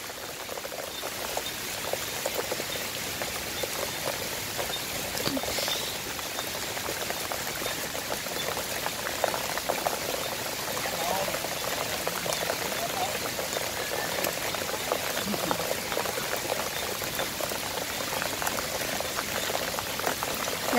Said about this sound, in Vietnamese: mưa lớn quá trời lớn rồi, lạnh lắm rồi.